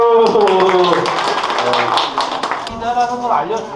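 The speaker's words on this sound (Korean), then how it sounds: "박수!" Clapping at a farewell party for a departing hold'em pub manager, mixed with lively cheering voices and chatter throughout, fairly loud and close.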